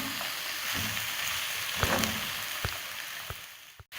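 Carrots and chicken chow mein stir-fry in a hot pan, a steady close sizzle broken by scattered clicks and scrapes of the spatula against the pan, ending in a sharp knock, no voices.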